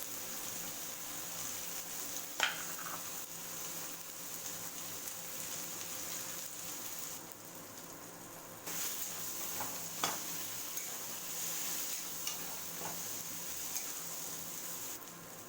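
Spice paste of onion, ginger, tomato and green peas with salt, turmeric and chili powder frying in a pan, a steady soft sizzle running throughout with a few faint scraping stir clicks, no voices.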